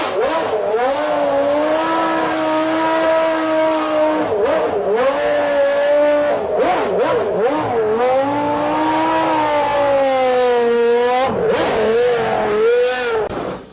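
A Formula One car's high-pitched Renault V10 engine wails continuously, rising and falling through semi-automatic gear changes as the car accelerates and passes, loud and steady throughout.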